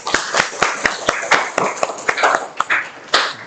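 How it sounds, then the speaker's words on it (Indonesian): An audience in a university teaching session claps for a presenter, with sharp, distinct hand claps in a steady, loose rhythm for about three seconds, close and fairly loud. "Bisa kita kasih aplaus untuk Mas Aldino"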